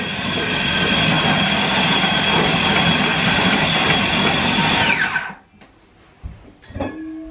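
A food processor blitzes a lamb doner kebab mixture with a steady, loud, whirring motor drone that runs for about five seconds and then winds down. Faint clatter and handling follow.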